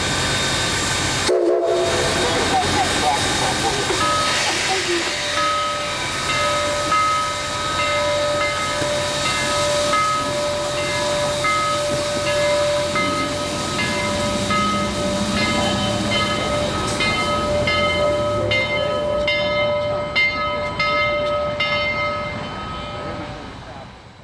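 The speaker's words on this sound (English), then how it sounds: "When 699 arrived at the depot, she uncoupled from her train to take a spin on the turntable." Central of Georgia 699 steam locomotive arrives at a depot, a long blast of its horn sounding over hissing steam and rolling rail noise that carries on steadily before tapering off.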